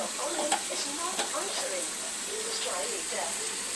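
A masala mixture sizzles steadily in a pan, a continuous close frying hiss with occasional stirring scrapes, while someone talks over it throughout.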